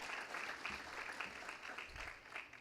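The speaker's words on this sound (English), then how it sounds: "Please let's give Mr. Morse another round of applause for those heartfelt remarks" Audience applause at a national bursary scholarship awards ceremony, a steady wash of many hands clapping, fairly faint and distant, continuing evenly throughout.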